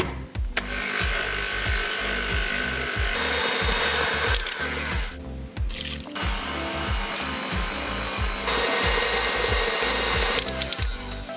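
An electric mixer on high speed beats lamington cake batter after the final flour goes in, giving a loud, steady motor whir with a fast rhythmic pulse. A brief dip near the middle breaks the otherwise continuous sound.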